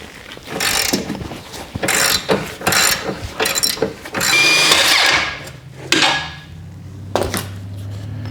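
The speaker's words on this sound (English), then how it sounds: "I got an 18mm socket, 18mm open end wrench. We're going to go ahead and loosen this up." An 18mm socket wrench and open-end wrench loosening a bolt on the rear suspension of a 2013-2020 Nissan Pathfinder, with loud repeated ratcheting clicks, metallic clanks and bursts of mechanical grinding close by.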